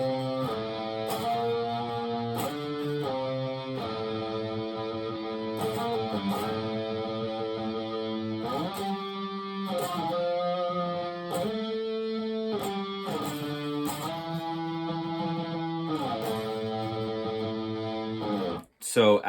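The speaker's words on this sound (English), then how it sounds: "So out of the middle 8, we have this riff again." A slow electric guitar riff with tremolo picking and wah, its fast repeated notes stepping through a pattern of held pitches, loud and distorted, played alone with a brief stop near the end.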